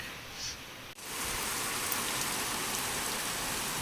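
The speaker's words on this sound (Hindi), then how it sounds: "तो बहुत तेज़ बारिश हो रही है" Steady heavy rain hisses loudly and continuously after a brief quieter moment, a dense wash of pattering with no voices.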